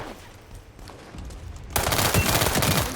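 Rapid, dense automatic gunfire in the video game World War 3 bursts in loudly after a quieter stretch of distant shots, continuing as a sustained close barrage.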